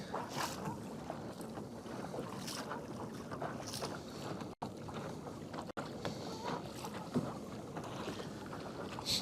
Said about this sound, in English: I think it's a ferry.